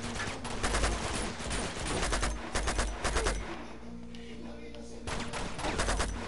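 Repeated gunfire from Uncharted: Among Thieves, dense bursts of shots rattling close and loud through most of the stretch, with a brief lull before firing resumes.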